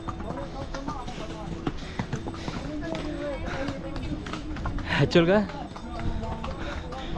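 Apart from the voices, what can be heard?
horse hooves clip-clopping on the Kedarnath trail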